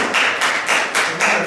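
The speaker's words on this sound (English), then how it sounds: "Round of applause for Gareth." Audience applause for Gareth at an evening church Bible talk, a steady dense patter of many hands clapping close by, with regular swells in intensity and no voices over it.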